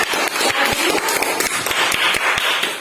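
A classroom audience applauds loudly and steadily during a lesson, dense clapping filling the whole stretch without pause.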